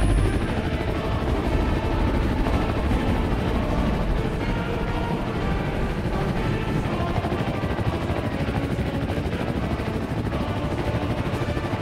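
A steady, loud engine drone of an aircraft in a LEGO-style building video game, a homemade flying nuclear bomb carrier taking off, continuous and unchanging throughout with no talk.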